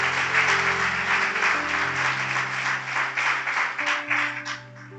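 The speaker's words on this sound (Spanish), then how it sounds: "Dale un aplauso al Señor por esta palabra." A church congregation claps during a Sunday service, steady applause of moderate loudness over sustained organ or keyboard chords, tapering off near the end.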